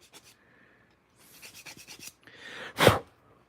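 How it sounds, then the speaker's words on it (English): Short rhythmic rasping strokes of sanding on a small action figure diorama model, a quick series of scrapes followed by a louder breathy burst, otherwise quiet. "Tedious part, sanding."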